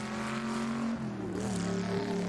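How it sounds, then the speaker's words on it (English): A twin cam four-cylinder Alfa Romeo racing car climbs the Goodwood hillclimb with a boomy, continuous engine note, holding steady and then rising in pitch as it accelerates, fairly close and loud. "Nice boomy 4-cylinder engine note. The twin cam Alpha engine."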